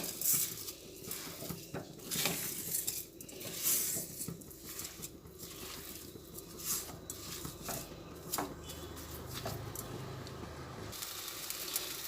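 Sugar being stirred into semolina in a pan while making fried semolina sweets, with soft scraping and light clinking of a utensil against the pan in an irregular rhythm, fairly quiet and close.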